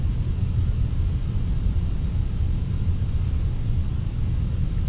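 An Airbus A320 powers on in the Fenix flight simulator with a steady, deep low rumble and airflow hiss, continuous and fairly loud throughout, with no talking.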